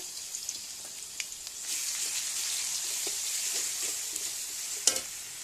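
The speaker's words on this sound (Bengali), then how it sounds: "এখন দিয়ে দেবো পেঁয়াজ আর রসুন বাটা" Onion and garlic paste sizzling in a pan while vegetables cook, a soft continuous hiss broken by light stirring scrapes and one louder clatter near the end.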